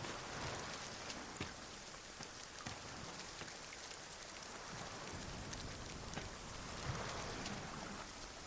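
Steady rain pattering on surfaces in the Dragon's Dogma 2 video game world, a dense continuous hiss with scattered drop hits and no speech.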